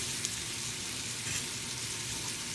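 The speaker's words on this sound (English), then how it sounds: "this is what you call a steak in a skillet" Steak searing in a hot skillet gives a steady, close, even hiss of frying fat that holds without a break from start to end.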